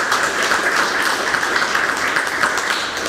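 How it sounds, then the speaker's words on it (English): Audience applause at a network operators' meeting, a steady crowd clapping wash at moderate loudness throughout, with no voices over it. "give a round of applause for all the people."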